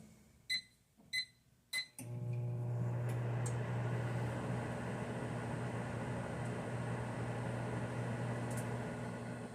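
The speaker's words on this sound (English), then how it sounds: "what I'm going to do is stick the plate in the microwave for about 10 seconds" Three short electronic beeps from a microwave oven, followed by a steady low hum as it runs with a plate inside, quiet and continuous for several seconds.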